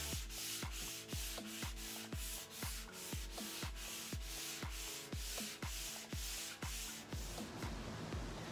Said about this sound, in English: give each piece a quick light sand